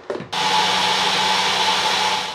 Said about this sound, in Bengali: এবার আবার ব্লেন্ড করে নিই।